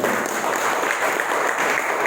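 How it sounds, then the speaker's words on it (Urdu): A church congregation breaks into dense, sustained applause, many hands clapping loudly and evenly over a couple of seconds with no voices above it. "تو اپنے لیے زوردار تالیاں بجائیں."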